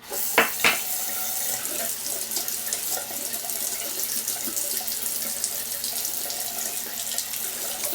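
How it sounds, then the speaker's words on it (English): A bathroom tap runs steadily at moderate volume while the water warms, with a couple of brief knocks near the start. "Waiting for the water to warm up."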